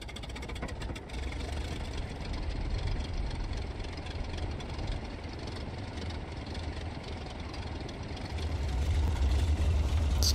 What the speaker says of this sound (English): Now we can start the engine just by pressing E, and the sequence will get going.